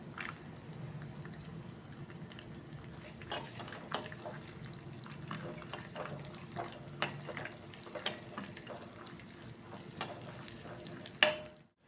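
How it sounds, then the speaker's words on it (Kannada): Dry fruits frying in hot ghee give a steady, close sizzle and crackle with scattered pops, running without a break for the whole stretch. No one speaks over it. "ತುಪ್ಪ ಕಾಯ್ದ ನಂತರ ಡ್ರೈ ಫ್ರೂಟ್ಸನ್ನು ಹಾಕ್ಕೊಂಡು ಕರಿದಿಟ್ಕೊಳ್ಳಿ"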